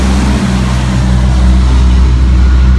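Heavy trucks roar past on a busy roadside in Ontario, a loud, continuous low engine rumble with steady tire noise filling the scene, close by and without talk.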